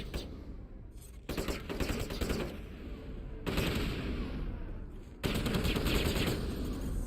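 Sustained automatic gunfire from a firefight in the Mass Effect video game, with dense rapid bursts that swell louder in several waves and no talking over it.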